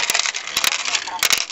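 Loose coins jingle and clink in a continuous bright rattle with a few sharper chinks, close by and filling the short stretch.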